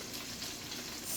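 Seasoned chicken legs fry in avocado oil on a stovetop burner, giving a brief, steady, quiet sizzle and crackle heard up close with no talking.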